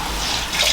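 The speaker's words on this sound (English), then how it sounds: "So I'm going to let that water out now after giving that a good soak." Soaking water drains from a sink or tub after a garment has been washed, giving a steady, close rushing gurgle with no voices.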